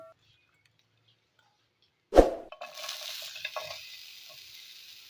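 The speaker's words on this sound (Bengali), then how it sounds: "এবার এর মধ্যে একটু পাঁচফোড়ন ফোড়ন দিলাম, শুকনো লঙ্কাও দিয়ে দিলাম।" Five-spice and dried chili dropped into hot oil, a sudden burst of crackle after silence that settles into a steady, close hiss of tempering.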